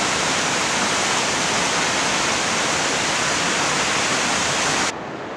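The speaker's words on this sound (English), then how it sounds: "Incredible amount of water coming down that." Large alpine waterfall in the Enchantment Lakes Basin pouring a heavy volume of water, a loud, dense, unbroken roar heard close up that cuts off sharply near the end.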